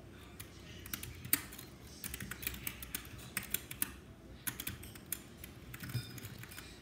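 Close-up typing on a computer keyboard, a quick uneven run of key clacks with brief pauses, no voices.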